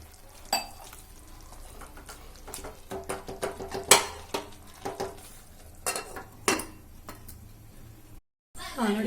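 Methi chilli chicken being mixed in a pan with a little water: irregular metallic clanks and scrapes of a spoon against the pan over a faint sizzle, close and fairly loud, with a brief silent gap near the end.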